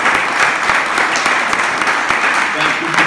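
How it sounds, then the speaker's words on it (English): Loud, dense audience applause from a crowded room at the close of an evening talk event, steady clapping filling the whole three seconds. "give one more round of applause to both these guys."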